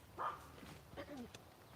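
A dog gives a short, faint bark, followed by a few softer yips and whimpers, quiet and somewhat distant.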